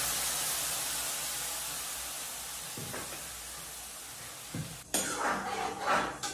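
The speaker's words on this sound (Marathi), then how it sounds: "तर आता इथे मी दूध टाकते थोडस" Milk poured into a pan of ghee-fried dry fruits for kheer: a steady low sizzle with a couple of soft clinks, then a sudden louder rushing splash and hiss near the end, close by with no talking.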